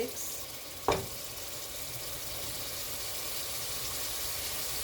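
Steady hissing sizzle of hot oil in a pan, with a single brief clink near the start and the crackling continuing evenly throughout.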